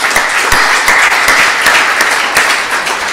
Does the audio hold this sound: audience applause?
yes